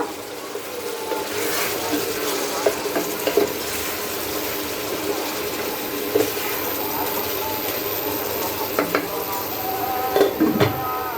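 A spoon stirs spicy goat head curry in a pot after the lid is lifted, with a low sizzle and bubbling underneath. Scrapes and knocks against the pot come every few seconds over a steady background hum.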